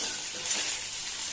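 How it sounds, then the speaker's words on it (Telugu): Egg frying in a pan for egg Maggi, a steady soft sizzle that holds evenly through the moment without any speech. "ఎగ్ అంతా బాగా వేగిన తర్వాత మళ్ళీ ఏం వేయరబ్బా? ఫ్రై అవ్వాలి."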